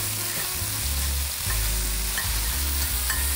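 Chorizo sizzles steadily in a hot pan, a dense crackling hiss heard up close, with faint low thumps of stirring and no voices.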